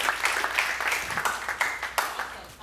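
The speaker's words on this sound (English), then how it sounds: "Let's give him a big round of applause." Scattered audience clapping at a talk on creative technology, a thin, uneven patter of hands with distinct individual claps rather than a full ovation, brief and fairly close.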